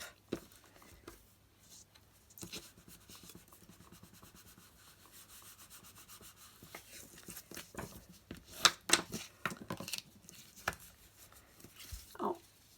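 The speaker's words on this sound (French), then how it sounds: "Et ensuite, de fermer mon enveloppe" Paper envelope for a handmade box being folded shut, with close rubbing and scraping of paper that builds into louder crinkling, creasing and tapping toward the end, with no talk.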